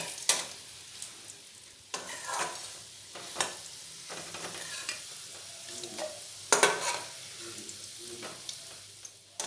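Potato pieces with turmeric powder fry in oil in a pan for a mushroom and potato curry, a soft ongoing sizzle broken by repeated sharp scrapes and clacks of a spatula stirring them, close by and without talk.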